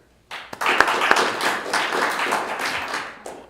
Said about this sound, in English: how many people, by applause, were here last year?